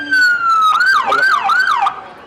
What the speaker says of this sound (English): The siren always indicates the end of the parade.